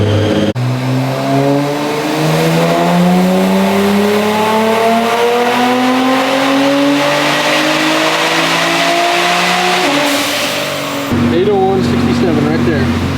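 A tuned Nissan GT-R with boost turned all the way up screams through a full-throttle pull, rising steadily in pitch through the gears for about ten seconds before cutting off abruptly, with excited voices over the end.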